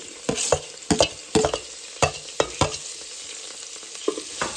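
Onions and green chillies sizzle in ghee for a mutton pulao as a spatula stirs and scrapes the pan in quick, uneven strokes, close up over a soft frying hiss.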